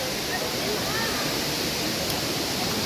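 A dense, steady roar of falling water at Cambugahay Falls on Siquijor island, broad and close, with a faint voice briefly audible under the rush.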